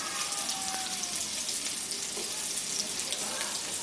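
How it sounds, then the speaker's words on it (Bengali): Bitter gourd and green banana pieces sizzle together in a pan, a steady bright crackle of oil that runs without a break and stays close and fairly loud throughout. "এখন এই দুটোকে একসাথে ভেজে নিচ্ছি।"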